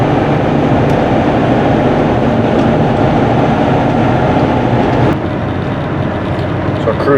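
Road and engine noise inside a Toyota Sienna minivan cruising at about 60 mph after a fix for fast vibration and shaking, a loud steady rumbling drone that eases slightly near the end, with a voice talking over it.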